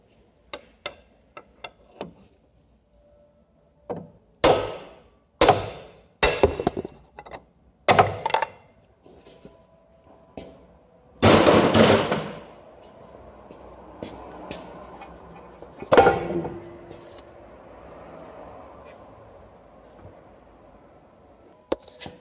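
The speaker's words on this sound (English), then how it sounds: "we're going to pound it this way and knock it out of the transmission" Sharp metallic hammer blows ring out one at a time as a CV axle is knocked out of a 2014 Jeep Patriot's transmission, spaced irregularly with pauses between, some clustered, against a quiet workshop background.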